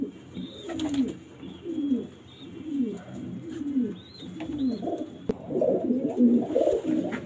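Pigeons coo repeatedly in soft, rolling low calls close by, with occasional faint chirps and light rustling in the background.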